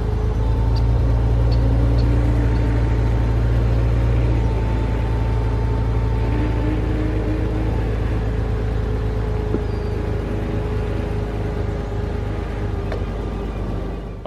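A 1998 Porsche Boxster engine idles steadily with a low, even rumble and whir throughout, heard close and continuous, with no voices over it.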